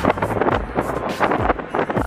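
Wind gusts buffet the microphone outdoors during an island outing in Hawaii, giving a loud, blustery rumble with uneven surges over a couple of seconds.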